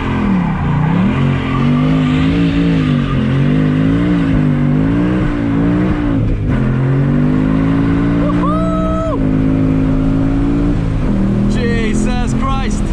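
A 2019 Ford Mustang Bullitt's engine revs loud and close throughout, its pitch climbing and falling with shifts, a sharp tire squeal cutting in briefly near the end, with a voice under the engine noise.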